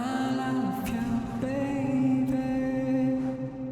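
A sustained, lush tone run through the AIR Music Tech Ether reverb plugin set to a low octave pitch shift, with harmonics layered over a deep undertone and a soft wash of tail, played alone without talk.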